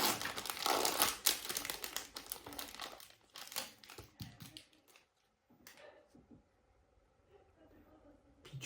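A Pokémon card booster pack is torn and crinkled open, its foil wrapper crackling loudly and densely at first, then giving way to sparser rustles and card handling.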